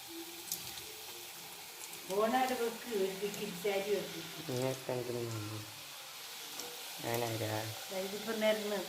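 French fries sizzle in hot oil at a low, steady level beneath a person talking throughout.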